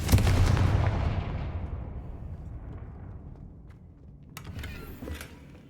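A Confringo blasting spell is cast in Hogwarts Legacy, giving one loud booming blast that rolls away in a long decaying rumble, followed near the end by a softer crackle.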